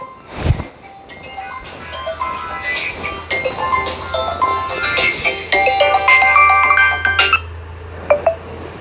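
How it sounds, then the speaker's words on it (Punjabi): A mobile phone plays a bright melodic ringtone in a home, loud and close, its notes looping for several seconds amid a soft room hum and a couple of short knocks. "ਉਹ ਫੋਨ ਵੱਜਦਾ ਵੇ ਚੁੱਕ ਲੈ"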